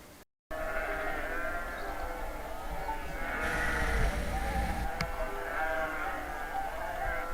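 A herd of goats bleats outdoors on a Spanish rural finca in the morning, with several overlapping calls rising and falling over steady background noise, moderately loud and continuous.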